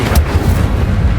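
The Incendio fire spell is cast in Hogwarts Legacy, a loud booming burst with a heavy rumbling low end that rolls on steadily for over a second.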